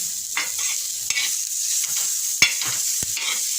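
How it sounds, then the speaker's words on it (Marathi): Peanuts roasting in hot oil in a pan, a bright continuous sizzle with clicks and scrapes from stirring, a few sharp knocks against the pan, close up and without talk. "आता शेंगदाणे टाकले भाजायला"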